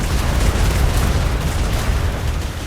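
Ship cannons fire in a Royal Navy naval battle in a Garry's Mod roleplay game, a dense, continuous barrage of loud, overlapping booms and rumbling blasts with no pauses.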